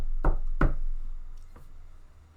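A special coded knock on a door: two sharp, loud raps close together near the start, then a fainter single tap, with no talking.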